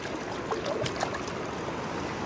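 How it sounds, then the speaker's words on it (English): Water poured over a toy ray to rinse it, giving a steady, close trickling stream with light splashing and no voices. "Let's wash off the ray. Let's give it some water."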